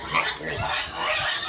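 Pigs on a pig farm grunt in low, rough, repeated snorts, close and fairly loud, with no talking.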